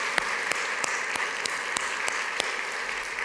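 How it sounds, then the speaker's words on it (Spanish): A church congregation applauds during a Spanish-language worship service, with a dense, sustained wash of many hands and steady rhythmic claps cutting through it, heard without talk. "Damos un fuerte aplauso al Señor."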